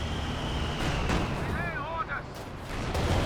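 Strafing run gunfire in Company of Heroes 2 crackles as a dense, continuous rumble of battle noise with bursts of firing and explosions, while a voice talks over it.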